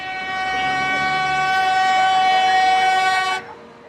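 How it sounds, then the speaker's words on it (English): Addis Ababa metro train, East Africa's first metro system, passing close by with a loud, steady tonal whine and rumble that holds for several seconds and then cuts off abruptly. "This is East Africa's first metro system."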